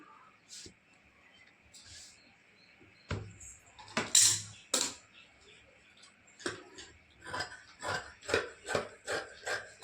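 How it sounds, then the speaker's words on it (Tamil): Scissors cutting fabric for a chudidar pant, a run of crisp snipping strokes that starts sparse and quiet, then becomes a close, regular series of sharp cuts toward the end. "கொஞ்சம் நீட்டாக கட் பண்ணுறேன்"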